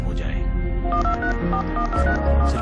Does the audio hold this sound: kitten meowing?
no